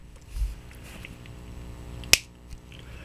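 A Japanese pocket pen's cap snaps on with a single sharp, crisp click close to the microphone, followed by a faint small tick, over a quiet background.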